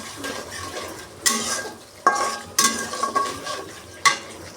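Whole green chillies go into frying eggplant with a little butter and are stirred, producing sharp clanks and scrapes of a utensil against the pan in four or five distinct bursts over a soft sizzle, close and clear.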